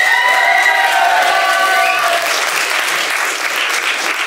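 Sustained theatre audience clapping during curtain-call cast introductions for a play, with some cheering and whooping early on, settling into steady applause.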